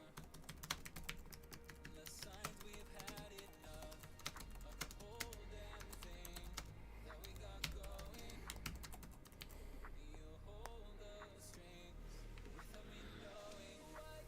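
Rapid clicking of computer keyboard keys during a gaming session, continuous and uneven, with bursts of keystrokes close up and faint speech under them.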